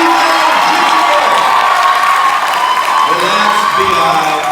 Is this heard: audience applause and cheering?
yes